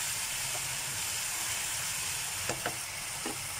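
Hot chili oil poured over a yellowtail scad fish, a steady loud sizzling hiss throughout with a few brief crackling pops near the end, close up.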